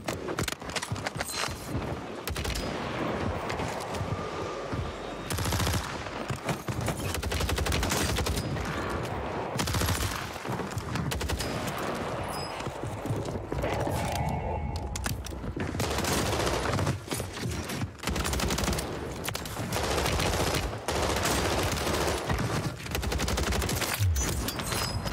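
Rapid pistol gunfire in Call of Duty Warzone on Rebirth Island crackles in dense, close bursts, with shots repeating quickly and steadily throughout alongside other battle noise.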